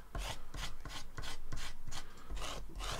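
Cardstock being scraped to flatten a base for a handmade Christmas card, a close, quiet run of rhythmic rubbing strokes at about two per second, with no other sound around it.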